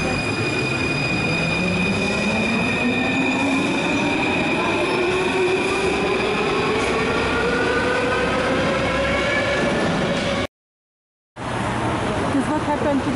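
Loud Paris Metro train running through a tunnel near Bastille with a steady roar, clattering wheels and rising whine of the motors, briefly cutting out near the end.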